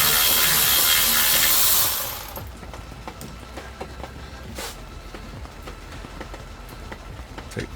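An alternator bolt on a Dodge Caravan is spun out with a loud, close burst from a power tool lasting about two seconds, followed by quieter ratcheting clicks and handling noises.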